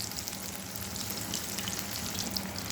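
Paneer pakoras frying in hot oil over a gas flame, a steady, close, crackling sizzle with small popping bursts that continues evenly throughout with no voices.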